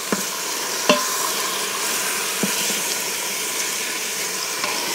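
Proteins brown in a hot pan during meal prep, giving a steady, close sizzle with a few faint scrapes and taps of stirring and no talk.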